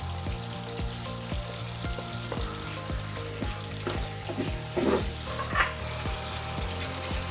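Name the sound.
frying coconut pieces and chillies for ginger curry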